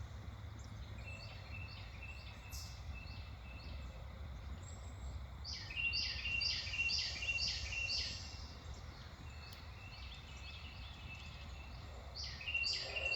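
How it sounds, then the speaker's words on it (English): A bird calls repeatedly from far off in the woods, faint chirping phrases recurring over steady low background noise at a campsite. "Now I'm hearing a bird over in the distance doing it."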